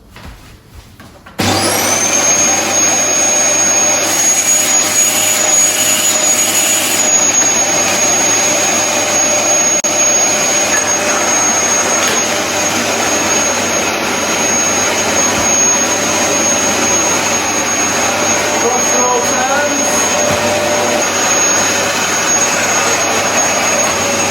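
A Dyson DC33 upright vacuum cleaner whirs on suddenly and keeps up a steady, loud, high-pitched roar with a constant whine, running nearby.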